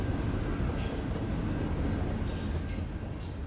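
Eastbound and westbound trains on a Rocky Mountain railroad roll past, a steady rumbling of wheels and cars with a faint sustained tone and brief bursts of hissing or squeal, continuous and fairly distant, with no talk.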